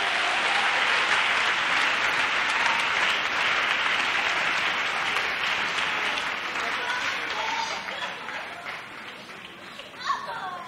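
A church congregation claps loudly and continuously, a dense, sustained wash of applause from many hands that fades slightly near the end.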